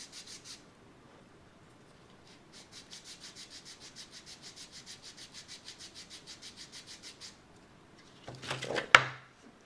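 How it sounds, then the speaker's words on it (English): Sandpaper rubs back and forth over hardened CA glue on a balsa glider in a long run of even rhythmic strokes, close and soft, ending in a louder scrape and knock. "CA is much harder to sand than wood, so sometimes it takes a little bit to get this started."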